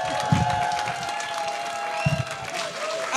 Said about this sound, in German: Applaus einmal für Nick van Dijk.